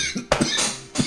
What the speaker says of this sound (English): It was a good time to cough. Perfect time for a coughing fit.